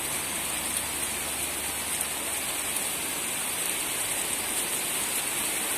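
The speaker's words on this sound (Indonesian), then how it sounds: "hujan makin deras." Heavy rain pours steadily on a toll road construction site on the Trans-Sumatra toll road, a dense, constant hiss of drops with no pauses or voices.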